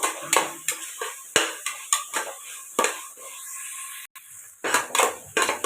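A metal spoon stirs ginger garlic paste, mint and coriander in a pot for Vaniyambadi chicken biryani, giving repeated close scrapes and clinks against the pot over a soft sizzle, with no talking.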